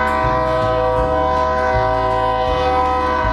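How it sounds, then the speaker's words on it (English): A slow train passes close by at a crossing, loud and steady, with a sustained horn-like tone and rhythmic low thumps of wheels on rail joints. "and then the train comes"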